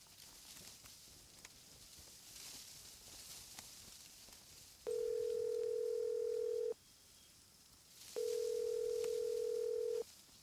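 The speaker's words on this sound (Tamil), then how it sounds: "பெத்த அம்மா தானே ஃபோன் பண்றேன், எடுத்து தொலைக்கலாம்ல." Telephone ringing unanswered in a Tamil crime thriller scene: two long, steady electronic ring tones of about two seconds each, separated by a pause, over a faint noisy room background.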